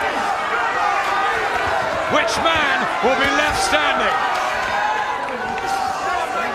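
A boxing crowd roars and cheers on its feet during a Michael Gomez versus Carl Johansson bout, a dense, loud wash of voices and whistles under a commentator talking.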